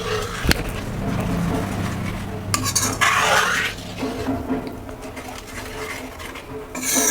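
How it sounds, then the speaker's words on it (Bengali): Milk and milk powder stirred together in a metal pan for kheer, a continuous scraping swish of a utensil against the pot with occasional clinks. "এবার এগুলোকে সুন্দর করে মিশিয়ে নেব।"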